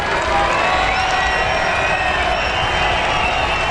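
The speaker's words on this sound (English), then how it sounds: "the crowd making a lot of noise for you here" A dense home crowd at the 2022 Spanish Formula 1 Grand Prix qualifying cheers and roars continuously, a loud, even wash of massed voices with no break.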